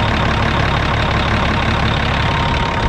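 A Cat 740 machine's engine runs steadily at idle with its AC pump working, a loud, close, continuous low rumble and drone that holds constant throughout without pauses or talk.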